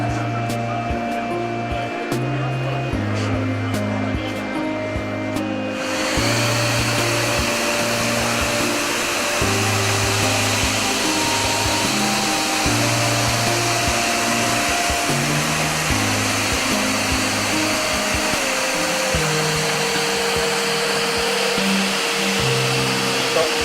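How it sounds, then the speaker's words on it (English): Escalator cleaning machine running its 14 rotating brushes over the steps at a cleaning-equipment trade show, a loud continuous mechanical whir and drone that shifts in pitch and grows rougher partway through, with no speech over it. "it's India's first machine that cleans vertical as well as horizontal surfaces of the escalator simultaneously with a combination of 14 brushes"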